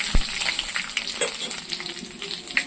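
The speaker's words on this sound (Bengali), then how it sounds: "ফোড়নের জন্য আমি দিয়ে দিয়েছি এখানে তেজপাতা শুকনো লঙ্কা আদা পাঁচফোড়ন এবার আমি ফোড়ন দিয়ে দেবো" Bay leaf, dried chilli, ginger and panch phoron sizzle in hot oil as a tempering, a steady bright crackle with small pops and a sharp thump at the start, close and fairly loud.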